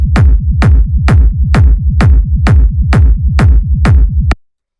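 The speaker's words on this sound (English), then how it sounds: "the first thing I have here is the rumble kick, which sounds like this" Crunchy, textured rumble kick drum for cosmic techno at 130 BPM, hitting nine times in a steady four-on-the-floor pulse with a deep booming low-end tail under each hit, loud and alone, ending abruptly.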